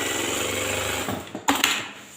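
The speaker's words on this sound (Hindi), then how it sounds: "प्रेशर फुट उठाएंगे, फैब्रिक को रखेंगे और सिलाई करके देखेंगे" A single needle lockstitch sewing machine with an under bed trimmer hums steadily as it stitches fabric, then stops, followed by a few short mechanical clicks and knocks.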